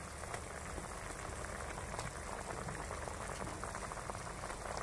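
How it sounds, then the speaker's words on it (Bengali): A pan of water at a rolling boil, waiting for fish to be added for a parse fish curry. A steady dense bubbling hiss continues evenly throughout with no voices. "জল ফুটে উঠেছে, এবারে আমি মাছগুলো দিয়ে দিচ্ছি।"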